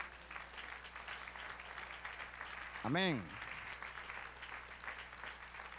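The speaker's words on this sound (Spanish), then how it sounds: "Denle un aplauso al Señor" Congregation clapping during a Spanish-language church service, a continuous wash of applause under and around a preacher's voice, with a sung or drawn-out exclamation rising briefly in the middle.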